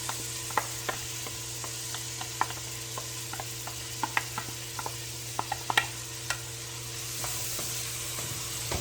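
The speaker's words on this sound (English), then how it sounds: "Let's saute them." Vegetables sauté in butter in a hot pan over medium-high heat with a steady, close sizzle. Sharp pops and crackles come every fraction of a second, and occasional clinks sound from the pan.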